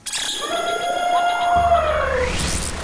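A toy transforming egg in elephant form plays a synthetic elephant trumpet, one long, bright, wavering blare that rises and bends in pitch, loud and alone.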